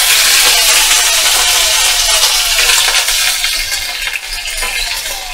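Spices with ginger paste and chopped tomato fry loudly in a pan, with a steady dense sizzle and the scrape of a spatula stirring throughout, close and continuous.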